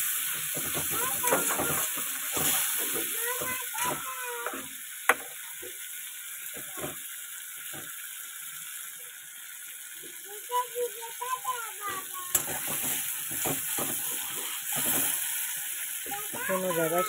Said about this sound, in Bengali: মাছের তেলটা এবার একটু ভেজে নেবো